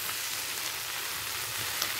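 Vegetable stems, potatoes and lentil dumplings frying in a pan make a constant, even hiss of sizzling oil, close and unbroken, with no voices.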